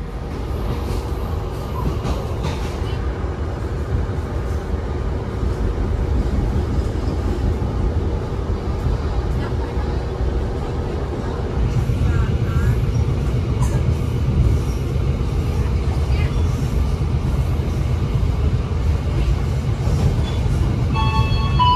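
KA Joglosemarkerto economy train on the Yogyakarta–Cilacap line pulling away and running, heard from on board as a steady loud rumble of wheels on rails that swells partway through and carries on without pause.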